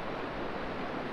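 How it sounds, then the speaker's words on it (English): A steady, dense hiss of torrential rain pouring down near La Fortuna, Costa Rica, constant and close, with no pauses or voices. "Continuing with the torrential downpour."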